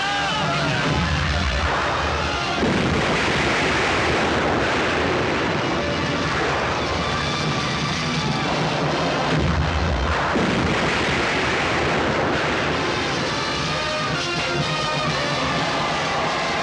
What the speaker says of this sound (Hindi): तोपों की गूंज सुनो